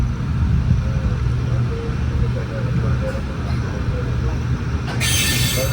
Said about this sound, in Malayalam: അങ്ങനെ നമ്മുടെ എറണാകുളം വേളാങ്കണ്ണി എക്സ്പ്രസ് ഇവിടെ 5:48 ഇവിടെ വേളാങ്കണ്ണി എത്തിയിട്ടോ.